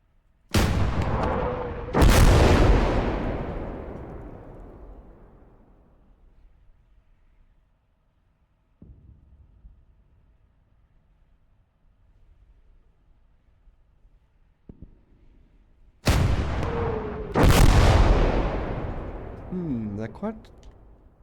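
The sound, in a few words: bombs exploding after a dropped payload, Call to Arms Gates of Hell video game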